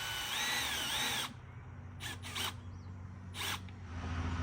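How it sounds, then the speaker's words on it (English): Power drill boring holes to mount a birdhouse, with a sustained high-pitched whine for about a second, then three short separate bursts of drilling over a low, steady motor hum. "And I should drill these"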